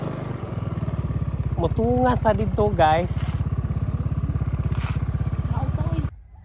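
A motorcycle engine runs steadily at a mountain peak parking spot, with a loud, even idle throughout and someone talking over it before the engine cuts off near the end.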